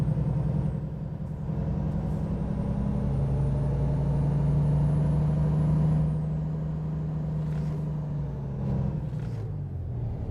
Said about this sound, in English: If it doesn't sound like a truck shift.